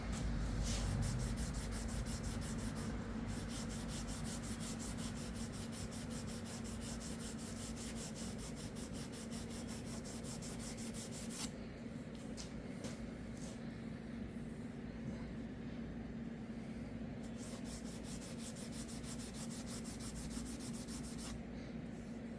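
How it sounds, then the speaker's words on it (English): A Scotch-Brite pad rubbing along a wooden hammer handle, steady rapid back-and-forth scrubbing strokes, close and continuous, with a short pause partway through. "Now if I want that smoother, let's get some Scotch-Brite."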